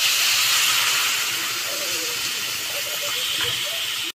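Water poured into a hot pan of white potato curry sets off a loud, steady hiss of steam that holds for about four seconds and then cuts off abruptly.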